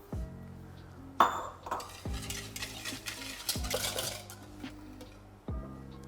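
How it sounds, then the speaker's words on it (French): Egg yolks beaten with homemade vanilla sugar in a bowl, a steady scraping whisk with light clinks against the sides, while milk heats nearby. "on va pouvoir blanchir nos jaunes avec notre sucre vanillé"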